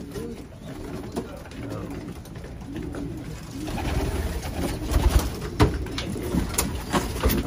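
Racing pigeons in a loft coo repeatedly in low, throaty phrases close by, with a few soft knocks and shuffling noises mixed in.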